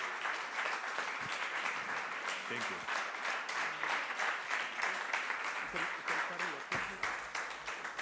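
Sustained applause from an audience at an arts event, a steady dense wash of clapping for several seconds, with a voice briefly speaking over it.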